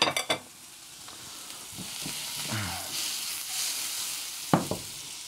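Carrots frying in a pan for Colombian patacón pisao, a steady close sizzle with a few stirring scrapes and clinks over it.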